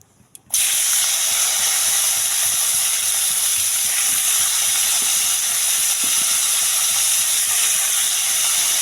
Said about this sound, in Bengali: বরবটিগুলো ভেজে নেব